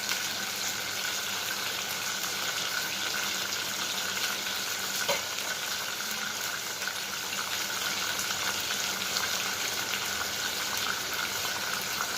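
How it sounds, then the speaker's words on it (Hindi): Meat for nihari gravy fries in a pot, a steady, even sizzle and crackle running unbroken for the whole stretch at moderate level, with no voices over it. "ये देखिए ये गोश्त हो गया ऐसे फ्राई।"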